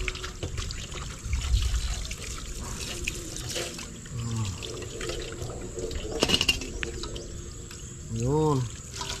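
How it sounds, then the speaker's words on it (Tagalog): Water poured from a tap into a cooking pot while preparing milkfish paksiw, a soft trickling splash under hushing sounds and brief low speech in a kitchen. "Lagyan ko ng tubig."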